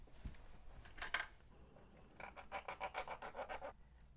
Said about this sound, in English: I'm going to file these posts down and then drill them